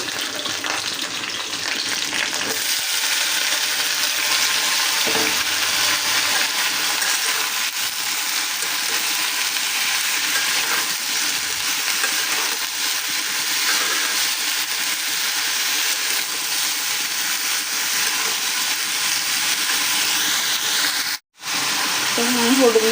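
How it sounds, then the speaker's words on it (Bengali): Bitter gourd frying in a pan on a home stove gives a loud, steady, broadband sizzle that runs continuously for over twenty seconds, with a brief dropout near the end. "আর এখানে হচ্ছে আমি করলা ভাজা করবো"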